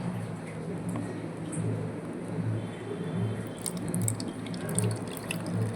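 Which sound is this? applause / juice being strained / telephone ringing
juice being strained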